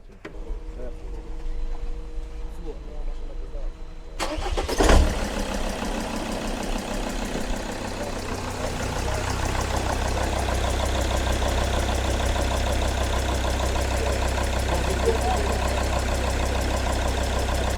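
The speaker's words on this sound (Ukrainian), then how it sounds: "Так, двигун працює непогано, але оце цокання" A car engine cranks and catches, then settles into a steady idle with a ticking from a suspected faulty fuel injector, close and fairly loud after a quiet start.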